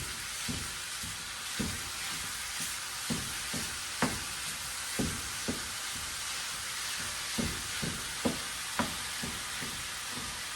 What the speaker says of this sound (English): Should have used a bigger pan than the 10-inch to cook a pound of ground beef?